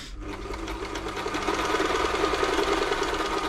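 A New Home L 312 sewing machine runs a long straight stitch, a loud, steady, close mechanical whir with a rapid even needle rhythm throughout, no voices.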